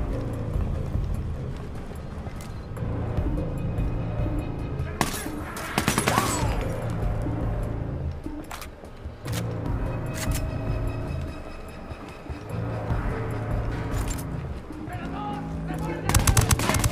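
Bursts of gunfire from UNIDAD troops and rebels trading shots in Ghost Recon Wildlands, sharp broadband cracks clustering around the middle and end over a steady game background, with voices talking at times.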